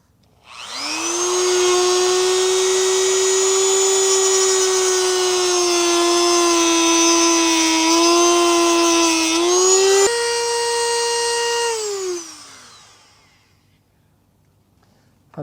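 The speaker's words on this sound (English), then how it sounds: "Always wear eye protection when you use power tools." A handheld power tool whines loudly and steadily as it cuts through part of a guitar during a repair, its pitch dipping slightly near the end before it spins down and stops.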